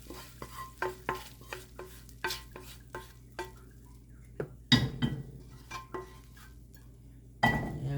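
A spatula scrapes and taps against a pan as sisig with egg fries, soft sizzling beneath the rhythmic stirring, with a couple of louder clatters.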